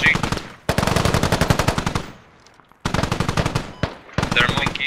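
Machine gun fire in the video game Squad, heard as close, loud automatic bursts of rapid evenly spaced shots, broken by a short quiet gap and a brief pause before the firing resumes.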